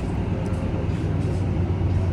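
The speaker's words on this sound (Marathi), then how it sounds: "ट्रेन चालू होते इथून" A small two-car passenger train in Leeds pulling away from a station, heard from inside as a steady low rumble with faint hum, no voices.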